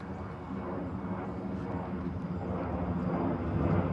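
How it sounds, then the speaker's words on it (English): A steady, low engine roar from an airplane passing overhead, constant and broad, slowly building slightly in loudness over a few seconds. "airplane in the sky"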